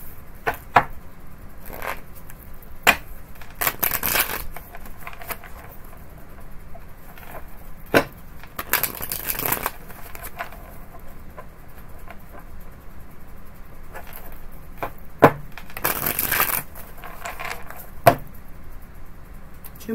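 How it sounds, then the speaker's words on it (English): Tarot cards are shuffled in short, scattered bursts of riffling and slapping, several quick flurries spread over twenty seconds against a quiet room. "I guess we'll find out when I shuffle."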